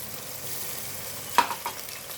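Ginger, garlic and cumin paste hits hot oil for a fish curry, giving a steady low sizzle with one sharp crackling burst and a smaller follow-up spatter, no one talking.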